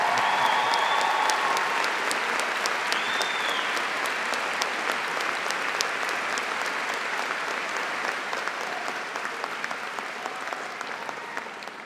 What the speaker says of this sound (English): he deserves applause for his stamina